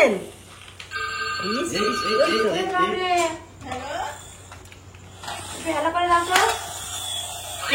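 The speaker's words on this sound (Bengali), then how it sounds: "phone phone phone" A toy telephone rings with bright electronic tones in bursts, near and fairly loud, while a child and an adult talk over it.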